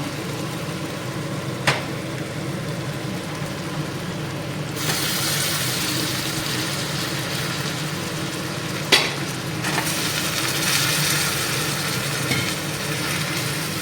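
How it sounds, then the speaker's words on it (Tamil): Pieces of eggplant fry in hot oil with a steady, close sizzle throughout, swelling louder partway through and marked by an occasional sharp clink of stirring. "இது கத்திரிக்காய் நல்லா ஃப்ரை ஆனால் குழம்பு டேஸ்ட்டாக இருக்கும்."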